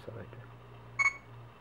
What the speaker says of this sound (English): So you will hear a beep and the red dot there, so it tells you it's recording.